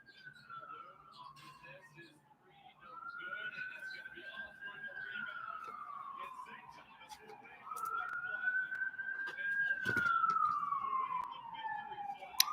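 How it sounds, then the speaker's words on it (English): A wailing siren rises and falls in the background, faint and distant, while a quiet voice murmurs beneath it. "We got some sirens in the background"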